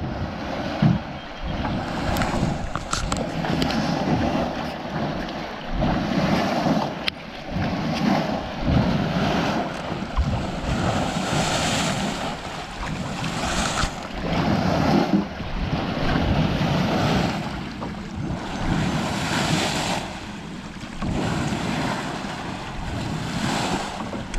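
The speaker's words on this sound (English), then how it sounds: "That's the water coming through the hatchery down" Loud, steady rush of churning water with constant broadband roar and gusty buffeting, as heavy flow pours out of a fish hatchery into a lake nearby; no voices.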